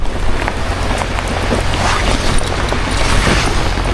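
Steady rain and choppy waves on İznik lake beat against a camping shelter during a solo carp-fishing trip, a loud, close, unbroken wash of noise with low rumbling gusts and no talking.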